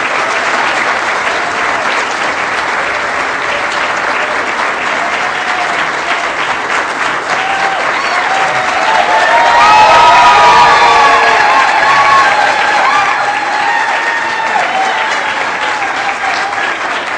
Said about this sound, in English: How about a nice round of applause for our candidates as they enter with us?